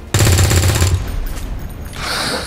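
Gunfire in XCOM 2: War of the Chosen, a loud rapid burst of automatic shots close up that ends abruptly, followed by a fading tail and mechanical rustle.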